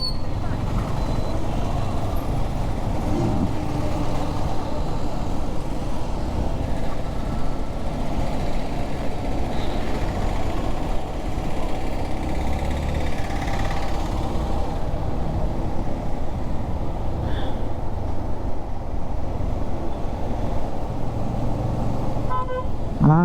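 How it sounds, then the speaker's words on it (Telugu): Heavy road traffic passes around a Yamaha MT-15 motorcycle on a road out of Nellore, with a constant dense rumble of cars, trucks and buses, occasional horn toots and a steady wind roar throughout. "ట్రాఫిక్ ఉంది బాగా"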